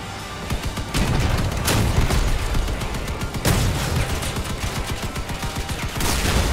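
Spectre-2 machine gun firing in the vehicle combat game Crossout, loud sustained bursts of rapid heavy gunfire broken by brief pauses, with booming impacts underneath.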